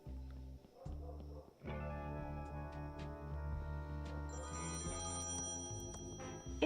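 Payphone ringing in the video game Thimbleweed Park, an out-of-order phone sounding with a steady electronic ring over layered game music, loud and continuous throughout.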